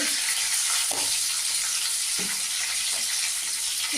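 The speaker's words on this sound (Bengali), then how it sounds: "তেল আমার গরম হয়ে গেছে এবার আমি শুকনো লঙ্কা জিরা ফোড়ন দিয়ে" Dry red chillies and cumin seeds sizzle loudly in hot oil after fish has been fried, a steady bright frying hiss with a few soft crackles and stirring knocks, close and continuous with no talk.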